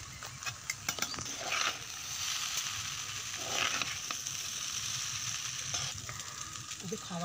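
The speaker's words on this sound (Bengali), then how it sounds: "সয়া সসটা দেওয়া হয়ে যাবার পর আবার ভালোভাবে নাড়িয়ে নিতে হবে।" Chicken chowmein with soy sauce sizzles steadily in a pan, village style, while a spatula scrapes and clicks against the metal throughout, close and fairly loud with no talking.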